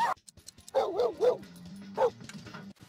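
A cartoon dog in The Sims 3 video game gives a short yip followed by a rapid trio of whiny barks, then another single yelp, close and clear over a faint low hum with no talking.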